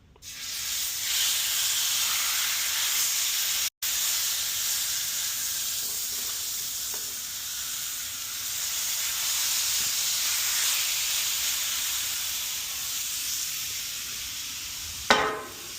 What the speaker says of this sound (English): We'll just go ahead and place the meat in the pan.